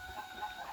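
Faint clucking from laying hens in a coop, soft and continuous, heard at a distance with a low background hum.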